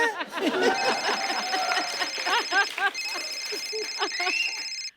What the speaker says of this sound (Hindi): ये मेरा फोन बजा।